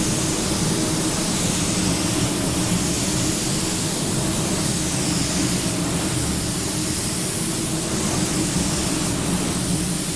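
A Porphis PRD-717 split tip spray nozzle delivers a continuous, loud, broadband hiss of spraying that holds steady throughout with no pauses.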